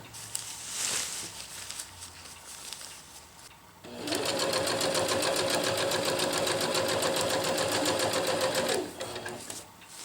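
A sewing machine stitches a zipper onto a jungle hammock, running in one steady, close burst of rapid needle chatter for about five seconds after quieter handling noises.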